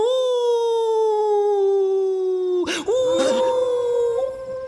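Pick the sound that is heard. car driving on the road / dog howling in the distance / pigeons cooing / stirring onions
dog howling in the distance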